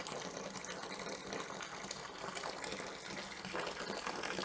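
Hot kettle water, 3.5 litres of it, poured into a home-brew fermenting vessel for a Wilko IPA kit, a steady broad gushing splash that runs continuously and fairly loud throughout.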